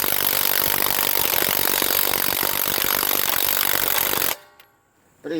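A HANS 1/2-inch cordless electric impact wrench hammers on car lug nuts in a loud, dense, continuous rattling burst for about four seconds, then cuts off into quiet before a short restart.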